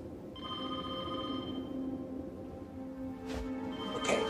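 A telephone rings steadily in a quiet room, its bell tone sustained for several seconds at moderate level, followed by a couple of brief clicks or knocks near the end.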